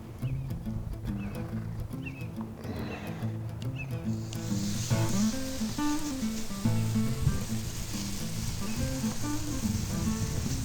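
Ribeye steaks land on a Goldens' cast iron Kamado grill, and a bright, hissing sizzle starts partway through and holds steady over background music.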